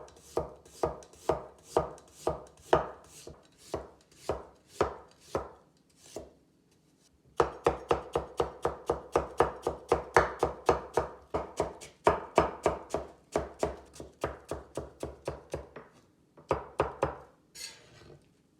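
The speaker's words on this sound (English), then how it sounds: "Then julienne the turnip." A knife julienning turnip on a board makes rapid, even chopping taps, close and crisp. Two long runs of steady strokes are split by a short pause, and a few final cuts follow.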